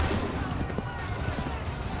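A gunfire volley in Assassin's Creed 3, a dense rolling crackle of many muskets mixed with booming, loud and sustained throughout the moment.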